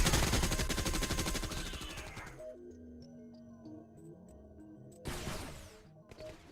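Rapid, loud bursts of Vulcan cannon fire in the Combined Arms war game, a dense roar for over two seconds, then quieter battle noise and tones before another sustained burst near the end.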